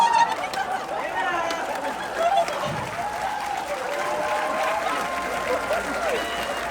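A theater audience at a live Q&A claps and cheers in a broad, sustained wash of applause with scattered whoops, steady for several seconds, with a voice speaking over it.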